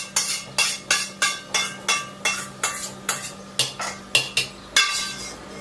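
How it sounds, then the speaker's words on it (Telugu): Brinjal frying in a pan is stirred with a metal spatula, giving a steady run of loud, regular scraping clanks about twice a second over a soft sizzle. "వంకాయ ఫ్రై అవుతూ ఉన్నాయి."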